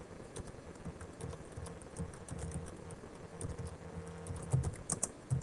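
Rapid, uneven typing on a computer keyboard, a steady stream of close, crisp key clicks with a few louder strokes near the end, with no talking over it.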